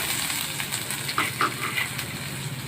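A steady sizzle of chopped small onion frying in hot oil with mustard seeds, up close, with a few soft crackles and pops over the hiss.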